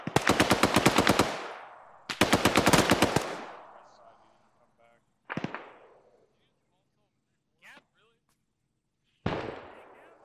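Automatic rifle fire in the military shooter ArmA 3: two rapid bursts up close, then scattered single shots echoing off into near silence.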